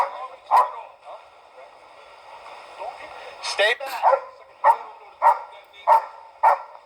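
A police dog barks sharply several times, the barks coming in a quick regular series toward the end, while people shout tensely nearby.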